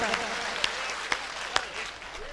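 An audience at a patriotic poetry recitation claps briefly, a short patter of hands with a few sharper individual claps standing out, while a voice is faintly present underneath.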